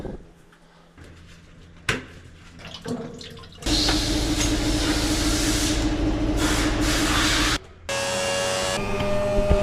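Water pumped through a radiant floor heating loop to purge air, part of an MBTEK 42k heat pump installation: a loud, steady rushing and gurgling flow that starts abruptly after quieter knocks, with a brief pause near the end.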